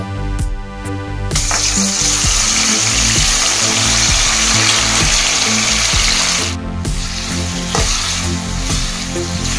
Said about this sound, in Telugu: ఆయిల్ పెట్టుకున్నాము దాంట్లోకి టొమాటోస్ని యాడ్ చేస్తున్నాము చూడండి